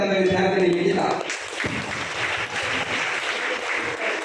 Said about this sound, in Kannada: ಜೋರಾಗಿ ಚಪ್ಪಾಳೆ ಮೇಡಮ್ ಅವರಿಗೆ.